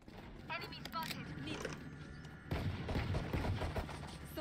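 Gunfire in the video game XCOM, with several sharp shots in quick succession amid game sound and a steady background, with people talking over it.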